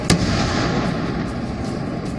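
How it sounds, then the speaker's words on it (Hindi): Gas cylinders exploding in a burning truck loaded with about 400 LPG cylinders: one sharp, loud blast near the start, then a sustained roar of fire and rumbling crackle, with fainter distant pops. "आग की वजह से गैस सिलेंडरों में धमाके होने लगे।"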